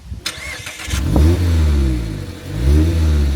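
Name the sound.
sports car engine starting and revving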